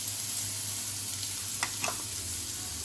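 Onions fry in oil left over from frying golsha fish, making a soft, continuous sizzle at moderate distance with a few faint crackles and no speech.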